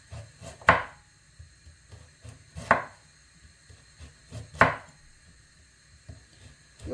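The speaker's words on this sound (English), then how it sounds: "I just feel like adding some carrot to my calaloo, so I'm just gonna be slicing them thinly." A knife slicing carrots thinly on a cutting board for Jamaican callaloo, three distinct crisp chops spaced about two seconds apart with faint quieter taps between, close and clear.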